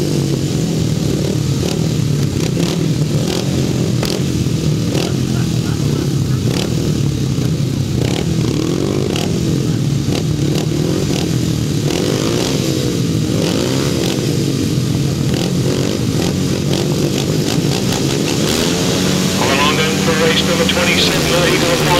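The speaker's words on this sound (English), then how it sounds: "Charlie Saunders making a cracking start from the outside" 500cc solo grasstrack motorcycles racing at a 2007 British Masters qualifier, loud rasping engines revving hard and continuously close by with a commentator talking over them throughout.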